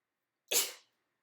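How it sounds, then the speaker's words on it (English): A single sudden sneeze, close and fairly loud, a sharp burst that trails off quickly with no talking around it. "I'm gonna sneeze"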